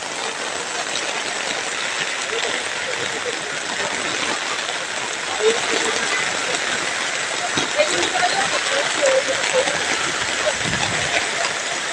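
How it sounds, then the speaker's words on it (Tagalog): Heavy rain falls steadily outdoors near a drainage canal, a dense continuous hiss throughout with a few faint knocks and voices underneath. "lakas na naman ng ulan"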